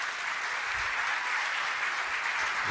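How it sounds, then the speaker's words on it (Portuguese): Steady applause from an audience at a religious gathering, dense and even, filling the whole stretch without a break. "Uma salva de palmas, por favor."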